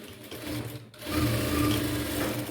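Sewing machine stitching blouse fabric pieces laid crosswise, a steady close mechanical whir with a brief stop just before one second, then running louder to the end.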